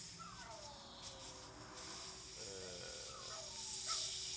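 Air hisses steadily out of a tyre valve as its little button is pressed, a close, even rush that grows slightly louder toward the end, with faint tonal squeaks over it.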